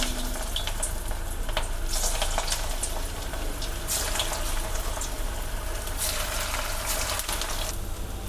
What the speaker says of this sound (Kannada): ಗೋಲ್ಡನ್ ಬ್ರೌನ್ ಕಲರ್ ಬರೋವರೆಗೂ ಚೆನ್ನಾಗಿ ಫ್ರೈ ಮಾಡ್ಕೊಳ್ಳಿ